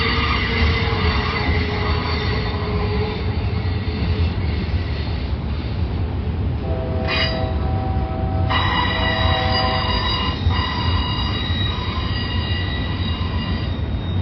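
Freight trains with triple banker locomotives passing at Cajon Junction on the Mojave subdivision, a loud continuous rumble of wheels and cars with metallic squeals and tonal ringing building partway through.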